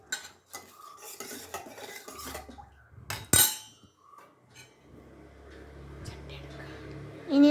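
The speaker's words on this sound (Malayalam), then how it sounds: "ഇതെല്ലാം കൂടെ നന്നായിട്ട് മിക്സ് ചെയ്യാം." A curry spice mixture with fenugreek powder being stirred, with a spoon scraping and clinking against a bowl in irregular close strokes and one sharper clang midway, while soft speech is heard faintly in the background.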